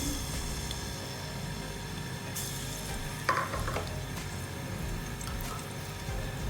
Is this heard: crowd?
no